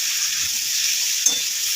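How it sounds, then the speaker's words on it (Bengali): Ground ginger, cumin, garlic and chili paste fries in a pan for mutton biryani, giving a loud, dense, continuous sizzle up close with one small clink partway through. "আদা জিরে রসুন লঙ্কা বাটা মশলা দিয়ে দেবো"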